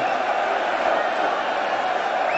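Raucous darts-match crowd in a Manchester arena, a steady dense roar of shouting and chanting voices that stays loud and unbroken throughout.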